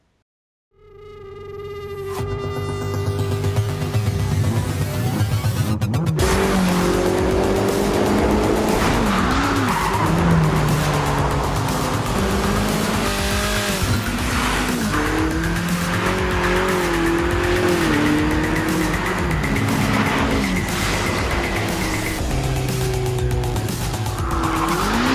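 A red Ferrari race car roars past with loud engine revving and long screeching tire skids, the engine note rising and falling continuously over about twenty seconds after a brief sweeping effect at the start.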